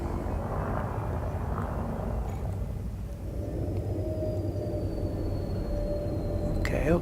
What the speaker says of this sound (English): I'm just on the small boosters now, small thrusters.